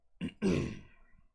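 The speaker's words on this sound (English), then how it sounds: "I clear my throat." A person clears their throat once, close and fairly quiet, a short rasp followed by a longer gravelly push.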